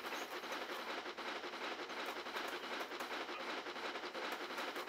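A locomotive runs downhill on a steep grade on a narrow-gauge slate light railway in a train simulator game, its loco brake not holding well; a steady, dense rumble with faint rhythmic clatter continues without speech.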